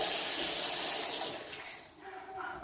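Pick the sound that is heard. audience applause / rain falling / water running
water running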